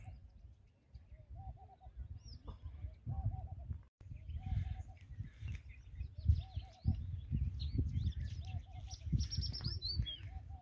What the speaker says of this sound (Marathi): आपण पक्ष्यांचा आवाज ऐकू शकतो इथे